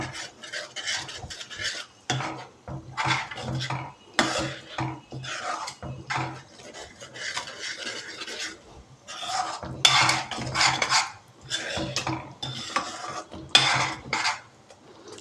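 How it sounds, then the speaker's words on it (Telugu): A spoon scrapes and stirs gongura and phool makhana curry in a pan, with repeated bursts of metallic scraping and rubbing separated by short pauses, close and fairly loud. "ఒకసారి మొత్తం కూడా కలిసేలాగా కలిపేసుకుందాం."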